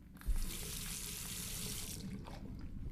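Water runs from a tap for rinsing in the video game The Last Door, a steady close rush that starts abruptly and keeps going without a break, with no talking.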